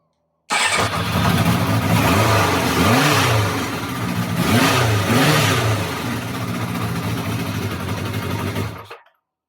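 A Kawasaki GT550 motorcycle engine with freshly reinstalled carburettors runs on half choke. It revs up and down loudly in two rising-and-falling pairs over a steady idle, close to the microphone.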